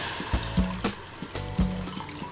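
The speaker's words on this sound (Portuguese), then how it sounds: "Então agora eu vou colocar a água." Water is poured into a hot pan of toasted millet and sizzles and splashes in several uneven bursts close by, with no one talking.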